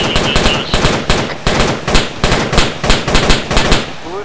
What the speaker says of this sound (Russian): Слышу калаш назад